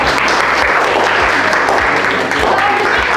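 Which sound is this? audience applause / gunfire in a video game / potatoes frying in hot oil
audience applause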